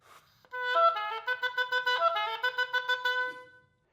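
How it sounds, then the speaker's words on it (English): An oboe plays a quick run of repeated notes with dry, short 'tut' tonguing, each note clipped and separated, a clear close solo passage lasting about three seconds in a quiet room. "So a tut articulation will sound like this."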